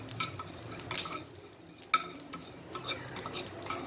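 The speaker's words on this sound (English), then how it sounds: "You can hear the sounds of the cumin" Cumin and coriander seeds dry roasting in a pan, faint crackling and light popping ticks under occasional metal spoon scrapes and clinks, quiet and close.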